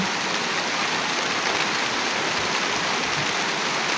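Steady rain pours down outdoors during the monsoon season in a home setting, a continuous dense hiss of falling water that stays loud and even throughout, with no voices over it.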